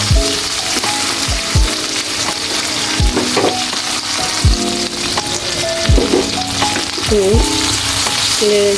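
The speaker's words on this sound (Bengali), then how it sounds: "আমি এই ভেন্ডিগুলো ভেজে নিব ভালো করে" Okra sizzles and fries loudly in a pan, with repeated scraping and clinking as it is stirred throughout.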